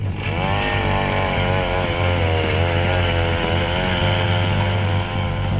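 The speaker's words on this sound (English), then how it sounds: "The final step in getting ready to begin fishing is drilling holes." A gas-powered auger drills holes through thick lake ice on Lake of the Woods in deep winter cold, its engine droning loudly and continuously close by, pitch wavering slightly as the bit bores down.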